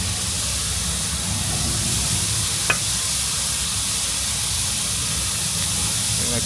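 Burgers sizzle while frying, with beans cooking nearby, a steady moderate hiss that continues throughout, broken by a single brief click.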